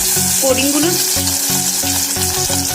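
Flour and egg coated chicken pieces dropped into hot oil, a loud dense sizzle and bubbling close by, with clinks and scrapes of a utensil over the frying.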